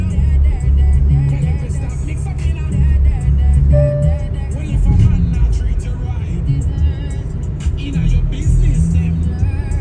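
A 2023 Kia Seltos engine revs and pulls hard in sport mode from inside the cabin, loud and rising as the RPM climbs, with a voice talking over it.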